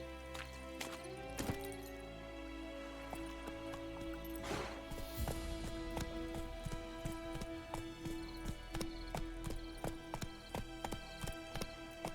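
Roach the horse's hooves clip-clop steadily at a walking pace in The Witcher 3, with a few sharp louder strikes and a brief whoosh, close and clear with no talk.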